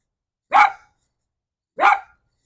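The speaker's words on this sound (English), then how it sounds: "My dog Lois is joining in." A pet dog named Lois gives two short, sharp barks about a second apart, close by and loud against silence.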